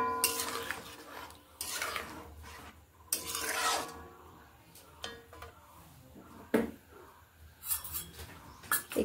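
A ghughni mixture is stirred with water in a pot, making scraping, rubbing strokes that come in bursts, close and moderately quiet, with no voices.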